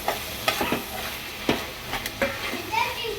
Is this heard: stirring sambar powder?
yes